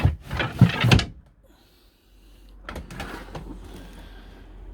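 In a Bailey Phoenix 420 caravan, a drawer slides open with a short scraping rattle after an initial burst of handling noise, followed by quieter rustling and movement nearby.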